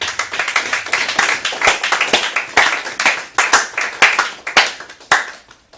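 A church congregation at a Sunday worship service claps loudly together, a steady run of dense, rhythmic handclaps filling the room for several seconds, close and continuous.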